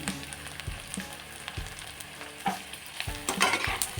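Brinjal pieces are stirred into onions frying in a pan, with a soft sizzle under frequent sharp clatters and scrapes of the spatula against the pan.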